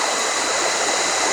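A rippling stream pours over a weir, a steady close broadband rush with gurgling texture and no voices.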